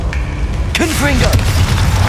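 In Hogwarts Legacy, a voice calls out just before a loud, rumbling Confringo fire spell blast, with sharp bursts over heavy low-end combat noise.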